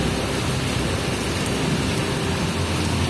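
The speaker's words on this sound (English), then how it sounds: "I have never seen this much big rain." Very heavy rain pours down as a dense, even roar of broadband hiss, loud and continuous and alone with no voices.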